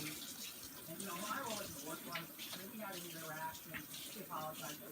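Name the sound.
water running from a tap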